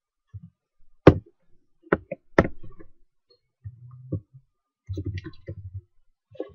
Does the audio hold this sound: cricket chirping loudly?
no